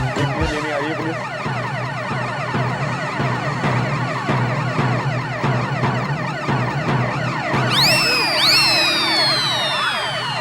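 Police car siren wailing steadily and fairly loud, its rising and falling tone repeating without pause, with a second, higher siren sweep joining near the end; no talk.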